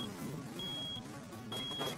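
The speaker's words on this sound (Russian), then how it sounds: "О, все, начинает пищать бензин." A low fuel warning in the mobile game Hill Climb Racing 2 beeps in short, thin electronic tones twice over a steady engine drone of a bus.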